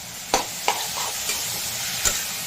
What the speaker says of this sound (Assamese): এতিয়া ধুনীয়াকৈ ভাজি ল'ব লাগিব